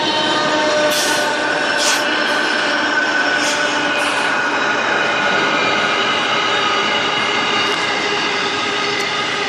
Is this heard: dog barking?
no